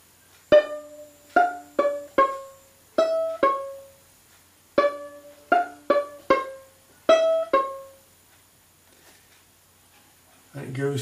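Violin plays the chorus of the Irish reel Drowsy Maggie in short bowed phrases, a quick run of clipped notes, a pause, then another run, close and clear with no talking.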